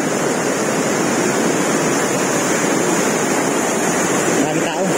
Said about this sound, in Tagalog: Saka lakas ng current ng tubig dito.